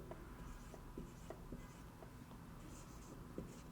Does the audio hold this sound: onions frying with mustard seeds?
no